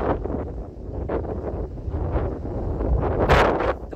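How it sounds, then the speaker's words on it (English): Gusty wind rushes across the microphone on Rattlesnake Hill in Black Rock Forest, New York, a rough continuous roar with uneven puffs that build louder toward the end. "The wind is still picking up."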